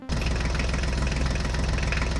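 A JCB backhoe loader engine runs steadily at idle, a loud continuous low rumble with a slight knocking pulse that starts abruptly and holds without a break.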